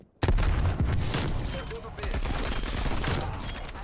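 Sniper rifle shots in a video game ring out as a fast, loud volley of close cracks that keep going, with no clear talk over them.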